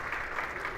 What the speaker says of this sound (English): please give our task force chairs a round of applause as they make their way off of the stage.